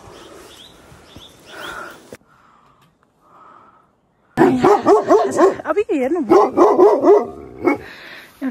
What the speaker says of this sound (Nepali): कुकुरले हामीलाई साथी दिएछ